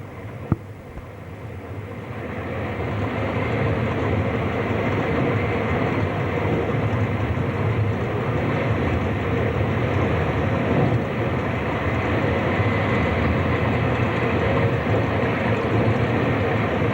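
A train on the Udine–Tarvisio line rumbles along continuously, a loud steady roar of wheels and motor heard from the cab, with a brief click near the start and no talking.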